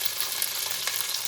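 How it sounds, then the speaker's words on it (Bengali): Dry chili, cardamom, cinnamon and cloves crackle in hot oil as a brief, close, continuous sizzle with small pops. "শুকনো লঙ্কা, এলাচ, দারচিনি আর একটু লবঙ্গ দিয়ে একটুখানি জাস্ট টস করে নেবো।"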